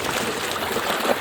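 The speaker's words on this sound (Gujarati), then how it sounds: "પાણી જાય છે ઘઉંમાં" Irrigation water pumped from a motor flows steadily into a sown wheat field, a continuous close rushing, trickling wash without pauses.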